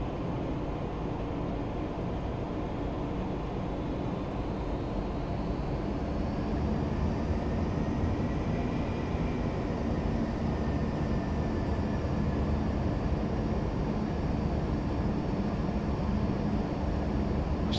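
Steady broadband jet roar of an Embraer ERJ135 at idle thrust in the X-Plane 12 flight simulator, an unchanging cockpit drone throughout with no talk.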